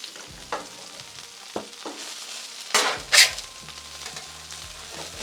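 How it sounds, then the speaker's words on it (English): Potatoes sizzle and fry on a Blackstone griddle, with a scrape of the spatula and a brief louder crackle as portions are flipped over, all close up and without any talking. "We're going to flip these over kind of in stages so we don't kind of mix them up."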